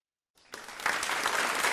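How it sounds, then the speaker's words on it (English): Applause starts after a short silence, building quickly into steady clapping from a crowd that continues to the end. "Let's give him a round of applause."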